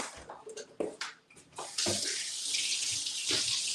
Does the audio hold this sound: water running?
yes